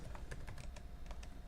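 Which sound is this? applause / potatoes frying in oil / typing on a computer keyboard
typing on a computer keyboard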